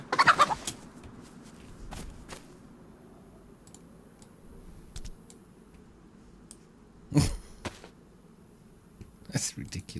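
A cockerel in the video game DayZ gives short clucking, crowing bursts at the start and again near the middle and end, with a person talking over the game sounds.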